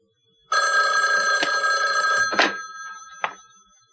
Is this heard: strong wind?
no